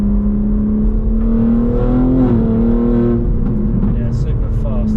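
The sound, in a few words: Stage 2 BMW G81 M3 with custom exhaust accelerating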